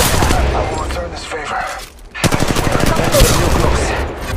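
Loud, close gunfire from Apex Legends Mobile gameplay as Octane, with rapid automatic bursts firing almost nonstop, a brief lull near the middle, then dense shots resuming.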